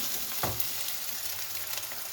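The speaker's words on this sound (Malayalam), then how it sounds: "അതുപോലെ ചിക്കി പൊരിച്ച് മിക്സ് ചെയ്തെടുക്കുവാണേ കേട്ടോ." Eggs scrambled and stir-fried in a pan to mix with biryani rice, a steady close sizzle with a brief scrape of the spatula near the start and no voices.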